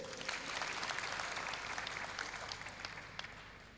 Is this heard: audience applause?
yes